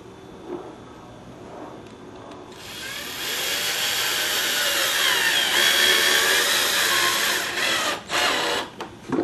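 A power drill drives screws into thin wood while building storage shelves. A loud, steady whirring runs for about five seconds after a quiet start, then cuts off in short bursts.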